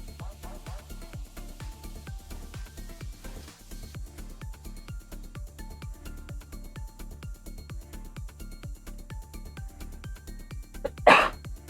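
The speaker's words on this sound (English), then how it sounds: "Pardon the cough." A single sharp cough bursts out near the end over a steady, looping rhythmic background beat, loud and close, with no talking.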